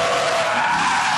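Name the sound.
yellow Corvette drift racing, tires skidding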